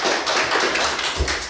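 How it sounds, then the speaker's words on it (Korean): A seated audience at a presentation breaks into applause, a continuous thick patter of many clapping hands, fairly loud and even from start to finish. "우리 일단 박수 한번 주시죠."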